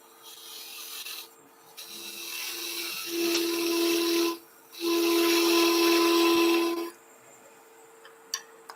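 On a wood lathe, a tool cuts a tenon on a wooden lid as a steady rasping, hissing scrape over the spinning hum. It comes in loud bursts with a short pause in the middle, then tapers off to a quieter whir.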